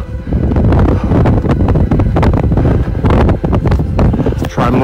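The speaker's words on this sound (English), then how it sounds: "It's very windy." Strong wind buffets the microphone, producing loud, continuous rumbling gusts with no pause throughout.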